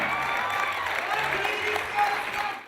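In a film festival hall, an audience applauds guests walking the red carpet, the clapping loud, dense and unbroken, swelling slightly near the end before cutting off.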